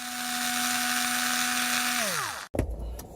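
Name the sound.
undoing a fastener on a Toyota Wigo gear selector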